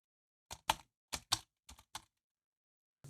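Typing on a computer keyboard, a few sparse clustered keystrokes in pairs, close and crisp with silence between, no talking.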